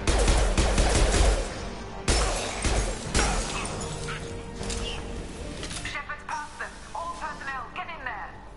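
Gunfire and explosive crashes from the Mass Effect 2 finale, loud and dense in the opening seconds with sharp bursts around two and three seconds, then thinning out as a voice talks over the later half.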